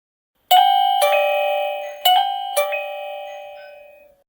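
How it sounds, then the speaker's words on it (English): A Camstro dual-camera doorbell's chime rings loud and close after the button is pressed, with four bright ding-dong tones whose ringing decays slowly, and no voices. "When someone presses the button, you can certainly hear the doorbell chime too."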